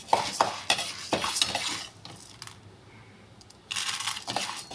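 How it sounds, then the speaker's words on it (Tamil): Ingredients dry-roasting in a pan until golden, stirred with scraping, clinking utensil strokes in bursts, a quiet gap midway, then steady scraping resumes close by. "பொன் நிறமாக வறுத்து எடுப்போம்"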